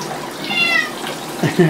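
A cat being bathed in a tub: a drawn-out meow, then a short lower mew near the end, over faint water sounds, close and fairly loud.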